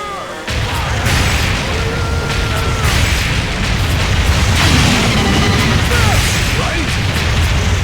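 Cannon blasts boom in the Deadstorm Pirates arcade shooter, a loud, sustained rumble of explosions and crashing debris filling the whole stretch with little letup.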